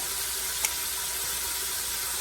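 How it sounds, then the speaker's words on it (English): Food sizzles steadily in a hot pan, a constant bright crackling hiss with a couple of faint clicks. "It's really starting to sizzle away nicely."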